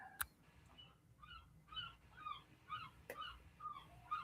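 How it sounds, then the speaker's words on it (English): Gull-like calls over a call connection, a series of short cries repeating every half second or so across the clip, thin and somewhat distant under a faint background hiss. "All of a sudden, I hear seagulls."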